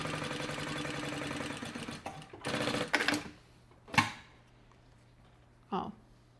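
A sewing machine set up for heavy stitching sews a pocket seam on thin fabric for a professional wallet, running in steady rapid bursts for about three seconds, then stopping with a few short isolated clicks.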